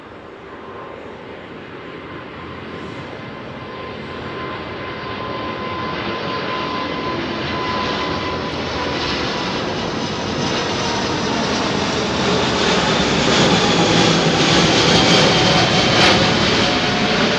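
A jet airliner departing overhead from Heathrow runway 09R builds from a low distant rumble into a loud, rising engine roar and whine as it climbs closer, steadily intensifying toward the end without any voices.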